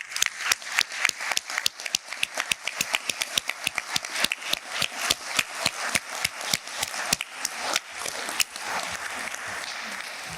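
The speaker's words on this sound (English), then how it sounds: "I ask that you all stand and be recognized with a hearty round of applause." An audience at a commencement ceremony claps warmly, a dense run of individual claps that holds steady throughout with no talk.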